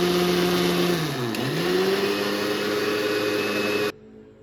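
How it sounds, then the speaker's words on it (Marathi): Kitchen mixer grinder blending mango pulp for aamras, a loud continuous motor whine that dips in pitch and recovers as it loads, then cuts off abruptly near the end. "मिक्सरला लावलं."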